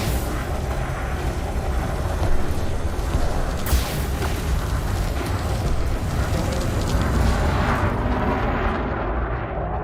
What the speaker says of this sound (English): I can tell by the sound of the multi-cannon it's big.